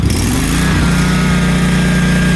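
A commercial walk-behind zero-turn mower's engine runs at full throttle, giving a loud, steady, close-up drone with a slight pitch rise at the start.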